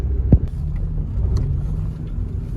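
A taxi car drives in first gear along a badly potholed road, a steady low engine and road rumble with a sharp thud early on as a wheel hits a hole, close and fairly loud, with no talking.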